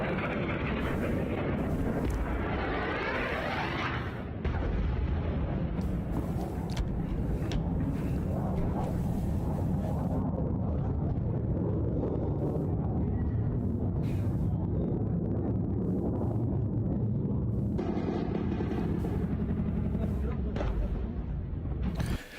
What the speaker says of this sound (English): you can hear the gunfire taking place at the same time the airstrikes are going off